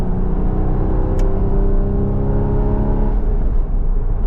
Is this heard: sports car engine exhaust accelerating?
yes